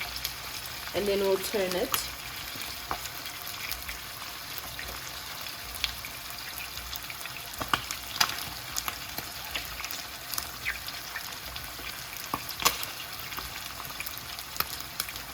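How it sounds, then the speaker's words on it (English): Chicken stew ingredients start to sauté in a pan under a running extractor fan, giving a steady, busy sizzle with scattered pops and stirring ticks throughout, while a person speaks briefly early on. "So now it's starting to saute."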